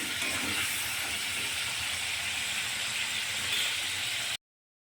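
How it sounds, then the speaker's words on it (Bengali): Prawns fry in hot oil until red, giving a dense, steady sizzling hiss that holds at an even level and then cuts off abruptly. "চিংড়ি মাছগুলো ভেজে নিচ্ছি লাল করে"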